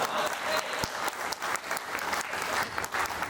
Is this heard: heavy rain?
no